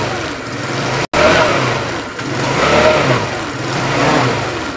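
A motorcycle engine with a digital gauge revs in rising and falling swells as the throttle is squeezed, loud and close, with a brief cut in the sound near the start.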